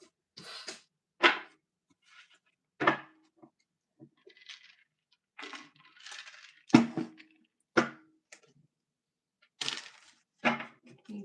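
A deck of tarot cards is shuffled, giving soft irregular slaps and riffles spread out in quiet bursts, close by and alone.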